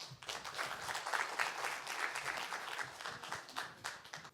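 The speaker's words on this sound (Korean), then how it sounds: "뜨거운 박수로 맞이해 주십시오" An audience at a Korean peace symposium gives a speaker a warm round of applause, dense, steady clapping throughout that swells and then tapers slightly near the end.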